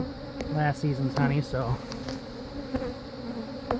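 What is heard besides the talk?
agitated honey bees buzzing in an opened hive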